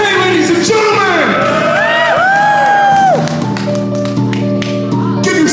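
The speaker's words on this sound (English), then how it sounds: "Give yourself a round of applause for being such a wonderful audience." A comedy club crowd cheers, whoops and claps loudly after a set, rising shouts and whistles over steady applause, with a voice calling out over the noise.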